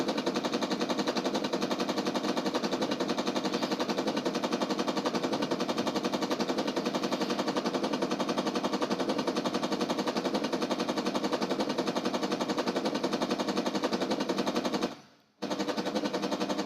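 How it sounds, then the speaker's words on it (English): Three Gatling cannons in the space game Space Engineers fire in a continuous, dense roar, shredding a full-scale ship. The rapid fire stays steady for many seconds, breaks off for a brief moment near the end, then resumes. "we've basically shredded a full-scale X1 in half with just 3 Gatling cannons"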